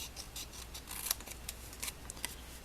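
Scissors snip through material for a mini walrus treat holder in a series of quiet, quick cuts, each a short crisp rasp, spaced irregularly with no talking.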